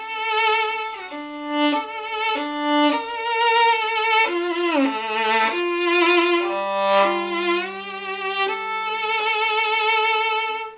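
Solo violin plays a film theme with an intense, sustained tone, slow legato phrases with sliding pitch and vibrato, close and loud throughout.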